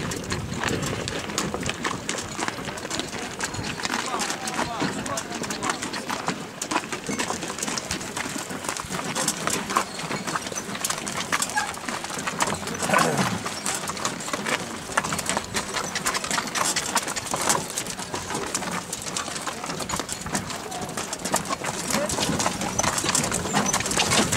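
Horse hooves clip-clop among tourists at Petra, Jordan, a steady scattered clatter running throughout under nearby people talking and general outdoor crowd noise.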